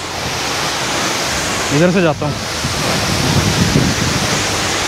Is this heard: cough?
no